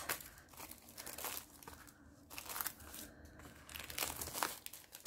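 Plastic packaging being cut open and pulled apart, with crinkling and tearing bursts in short irregular rushes, close and fairly quiet, no voices.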